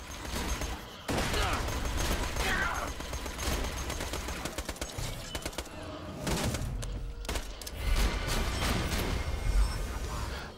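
Gunfire in Borderlands 2, with dense rapid bursts of automatic weapons and heavy thuds in continuous loud volleys, accompanied by a few faint voices.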